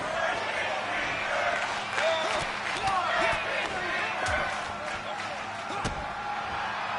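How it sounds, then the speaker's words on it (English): A wrestling crowd in Tulsa, Oklahoma roars in a loud, sustained wash of chanting and cheering, with sharp thuds and slams breaking through the din. "This crowd in Tulsa, Oklahoma chanting loudly for Scotty Brooks."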